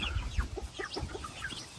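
Chicks cluck in quick, overlapping bursts nearby, a busy little flurry of short calls.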